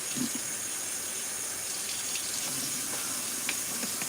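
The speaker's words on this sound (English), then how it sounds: "rinse this out a couple more times" Tap water runs steadily into an ice refill tray as it is rinsed in a sink, a close, continuous hiss and splash with faint clinks, heard alone without talk.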